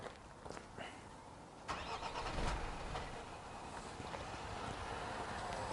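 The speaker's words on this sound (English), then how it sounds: "you'll notice there the vehicle tries to start, but it cuts straight out" A diesel car engine with a disconnected component cranks with a brief whirring burst, catches for a moment, then cuts out, leaving a quiet low hum.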